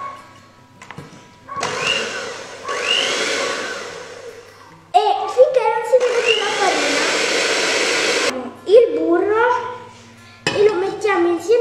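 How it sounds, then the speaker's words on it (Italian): An electric hand mixer whirs on low speed through apple cake batter in a home kitchen, coming in bursts of steady buzzing that start and stop, while a person talks in between and over it. "Ora giriamo a bassa velocità col frullino."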